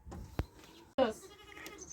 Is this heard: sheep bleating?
yes